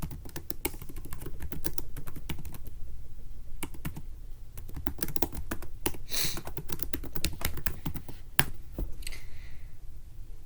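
Rapid, irregular clatter of keys on a computer keyboard as a file name is typed, close and fairly quiet, with short bursts and brief pauses and no voices.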